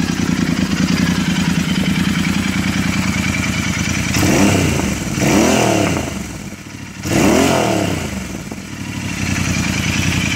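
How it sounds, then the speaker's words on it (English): A classic motorcycle fitted with a peashooter exhaust, with the baffle and wadding in question, idles with a rapid clattering beat, then is revved hard twice in strong rising-and-falling surges close by, settling back to idle. "Just rev it up."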